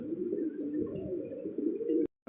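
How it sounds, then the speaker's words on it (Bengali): Lahori pigeons cooing, a close, soft, continuous low warble that rolls on steadily before cutting off abruptly near the end. "আরও এক জোড়া লাহোরি কবুতর দেখেন"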